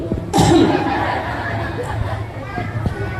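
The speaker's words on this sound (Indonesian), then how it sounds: "sekarang hadirin kita batuk bersama-sama 1, 2, 3" An audience at a large Islamic religious gathering coughs together on cue, a sudden burst of many overlapping coughs followed by scattered laughter and chatter from the crowd.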